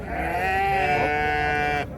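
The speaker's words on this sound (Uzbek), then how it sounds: "Bu yerda ham qo'ylar ko'p" A single sheep bleats loudly and close at a livestock market, one long wavering cry lasting nearly two seconds.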